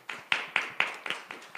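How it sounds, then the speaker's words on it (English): A small handful of people at a 2018 ASUA student election debate clap, producing about seven sharp, evenly spaced claps over under two seconds, fairly quiet and sparse rather than full applause. "So let's give them a round of applause."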